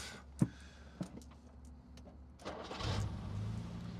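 A 1970 Jaguar E-Type Series 2 engine cranks briefly after a couple of clicks, then catches and settles into a steady, close rumbling idle.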